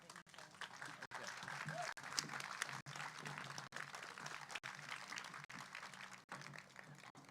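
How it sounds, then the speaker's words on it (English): Audience applause at a community awards ceremony, sustained clapping from a crowd for about seven seconds, broken by brief gaps, fairly steady and moderately loud. "How about a nice round of applause once again"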